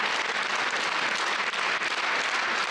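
A theatre audience at the premiere of a new staging of Nabokov's Lolita claps steadily, a dense, loud, continuous wash of applause with no voices.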